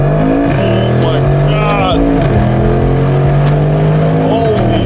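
Brabus 800 G63 with an 860+ hp engine revving hard and accelerating up close, a loud, continuous roar rising in pitch with gear changes, while people in the car talk and exclaim over it.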